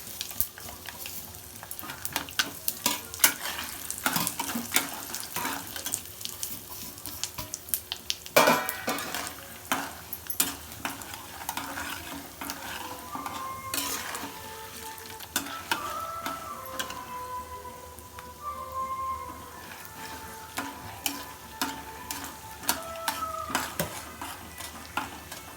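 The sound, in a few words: spices and turmeric frying and being stirred for lemon rice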